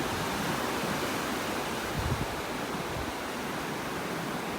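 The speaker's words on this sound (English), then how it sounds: "Listen to the sound of those waves." Waves wash steadily onto the beach at North Naples, Florida, a continuous broadband rush of surf with a slight swell near the middle and no voices.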